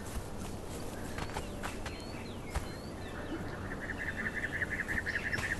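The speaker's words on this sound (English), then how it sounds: "Another big bird." A large bird in the Conan Exiles game gives a faint, rapid, repeated trilling call in the second half, set against steady outdoor ambience and soft footstep-like thuds.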